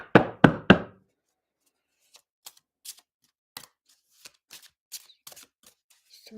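A tarot deck being shuffled: three sharp knocks of the cards tapped together, then a run of soft, scattered riffles and light card clicks, close and quiet with no talking.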